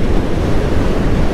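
Strong wind in the Andes mountains roars as loud, dense buffeting noise throughout, with no speech over it.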